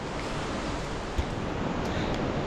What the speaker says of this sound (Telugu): వాటర్ ఫాల్ చాలా సూపర్ ఉంది కదా పక్కన